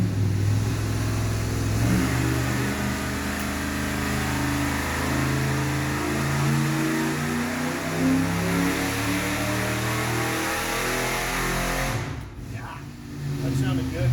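A stock Ford 460 V8 revs hard on a dynamometer, a loud sustained mid-pitched roar that climbs and holds through a long pull, then drops off abruptly near the end.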